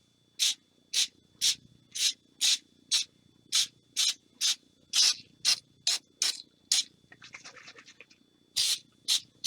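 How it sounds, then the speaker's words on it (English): Repeated short bursts of Easy-Off aerosol oven cleaner hiss in a steady rhythm over plastic model kit parts, about fifteen quick sprays close up, with one softer, longer spray near the end. "So we take the easy off, and you spray it liberally."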